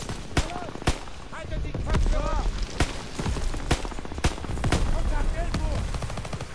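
Rapid gunfire in the Call of Duty World War 2 game on Veteran mode, sharp repeated shots and bursts over a dense battle background of explosions and rumble, with shouts and chatter mixed underneath.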